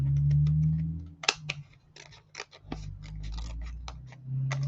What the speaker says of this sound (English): I'll cut these with scissors